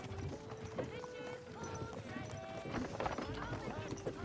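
Horse hooves clip-clopping at a steady walking rhythm in Kingdom Come Deliverance 2, moderately close, running under a person talking along with game music and ambient sound.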